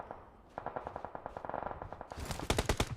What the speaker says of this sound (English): The moment you turn your back on Rosemary, he's gonna shoot you.